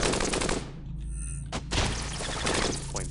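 Gunfire from the robot combat game Cogmind, a burst of loud close shots with a dense crackling blast at the start, a short gap, then another sharp thumping volley, with no talking.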